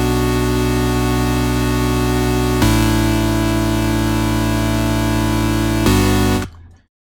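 A stock Native Instruments Massive synth patch built from square waves sounds as a loud, dense, buzzing sustained chord that shifts pitch twice before cutting off abruptly and trailing into silence.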